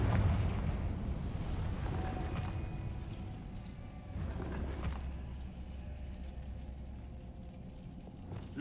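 The Confringo blasting spell goes off in Hogwarts Legacy as a deep booming explosion with a rumbling tail, followed by a second heavy blast that rolls on under low game ambience.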